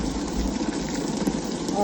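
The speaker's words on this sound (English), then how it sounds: "The rain is getting hard again." Steady, dense hiss of heavy rain falling on a raised-bed garden, continuous and fairly close, with no other sounds standing out.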